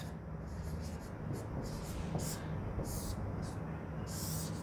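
Chalk or marker scratching on a classroom board during a chemistry lesson, a run of short strokes and taps over steady room hiss, with a voice briefly present.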